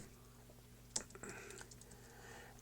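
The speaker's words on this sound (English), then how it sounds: "So if I start typing" Computer keyboard typing in a search field: a sharp single keystroke, then a quick soft run of clicks, quiet and close over a steady low hum.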